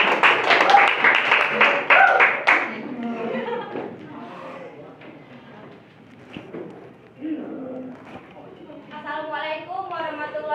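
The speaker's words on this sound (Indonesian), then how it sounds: "Berikan tepuk tangan untuk kelompok 3." A classroom audience claps for a presenting group of students, a burst of dense applause for about three seconds that fades into speech.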